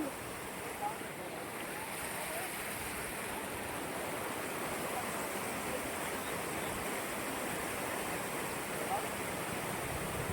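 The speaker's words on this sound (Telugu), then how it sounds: "ఇది మా ఊరు వాటర్ ఫాల్స్ ఫ్రెండ్స్ ఇది" Water spills over a small village waterfall amid flooding, giving a constant broadband rush that stays even and moderately quiet throughout, with no clear break.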